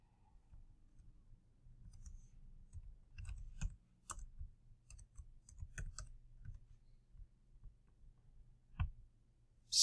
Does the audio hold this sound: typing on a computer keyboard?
yes